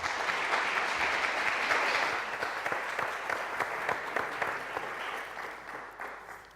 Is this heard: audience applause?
yes